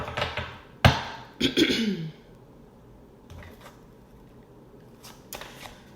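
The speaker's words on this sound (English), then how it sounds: "I'm just cutting the deck" A tarot deck is cut and shuffled up close, with sharp riffling bursts and card snaps followed by softer taps and slides before trailing off.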